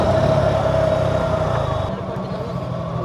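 A Honda Navi scooter fitted with a flyball upgrade revs its small engine in a steady buzzing drone that eases off near the end, close and fairly loud.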